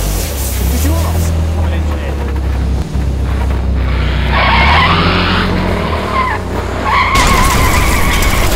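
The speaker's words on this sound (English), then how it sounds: "Did he just crash that truck?" A truck skidding and crashing, with loud sustained tire squeal and roaring engine noise up close, a sharp break midway, then a rising scraping screech near the end.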